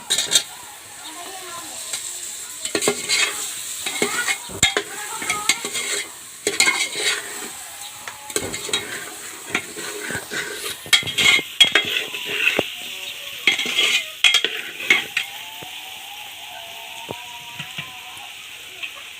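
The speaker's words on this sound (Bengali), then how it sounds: "তো বন্ধুরা এখন আমি আলু দেব।" Potatoes go into a pan of frying chicken curry with a steady sizzle, while a spoon scrapes and clatters against the pan in irregular stirring strokes, close and fairly loud.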